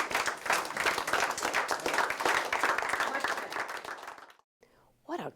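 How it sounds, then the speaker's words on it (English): A classroom group claps together after a discussion: about four seconds of steady, dense applause, then it cuts off, followed by a brief sound at the end. "So once again, round of applause for everybody for participating."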